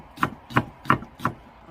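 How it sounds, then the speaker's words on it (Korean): Knife chopping thick green onion stalks on a board for yeolmu kimchi, four firm evenly spaced thuds close by, alone with no talking. "반씩 좀 갈라가지고 앞에 대가리는 좀 잘게 잘라줄 거예요."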